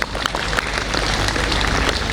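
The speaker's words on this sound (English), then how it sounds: "Give them a huge round of applause." Audience applause for the judges at a school's annual sports day, heard outdoors as a dense, steady, loud wash of clapping lasting a couple of seconds.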